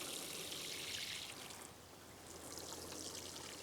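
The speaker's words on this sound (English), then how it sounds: "So now the last thing to do is to water our pots." Water pours from a watering can onto potato plants in pots, a steady, close trickling splash that briefly eases and then resumes, faint and alone with no voices.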